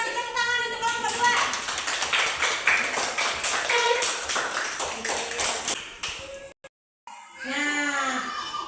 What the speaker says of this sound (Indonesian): Ayo, kasih tepuk tangan untuk kelompok 2.